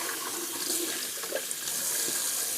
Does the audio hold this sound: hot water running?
yes